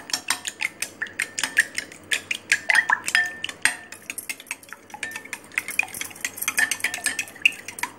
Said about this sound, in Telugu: ఇలా ఎగ్స్ వేసిన తర్వాత బీట్ చేయాలి మొత్తం అంతా కలిసేలాగా.